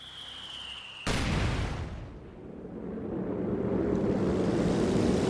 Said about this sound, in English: I moved my mortar to start bombarding this position